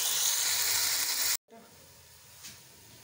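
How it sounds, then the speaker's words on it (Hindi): Onions browning in a pan for veg kofta pulao give a steady, bright sizzle that cuts off abruptly, then returns as a quieter hiss with a brief flare near the end. "तो इसको हम लोग ब्राउन करते हैं प्याजों को"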